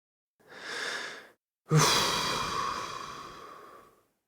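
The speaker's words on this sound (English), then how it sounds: "Could you please take a deep breath for me?" Patient taking a deep breath at a doctor's exam: a short airy inhale, a brief pause, then a longer, louder exhale fading out, close and alone.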